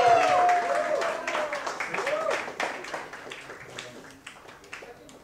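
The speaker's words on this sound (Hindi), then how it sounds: "एक बार जोरदार ताली स्वागत" A hall audience breaks into loud, dense clapping to welcome the director of a Sai Baba radio drama at its FM launch event, while a voice speaks over it. The applause then thins and fades toward the end.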